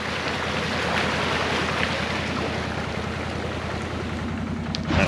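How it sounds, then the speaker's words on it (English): Steady rushing water flows through an open gate into a meadow, continuous and fairly close, a broad wash of noise with a faint low rumble underneath, unbroken throughout. "That's the water now coming over here."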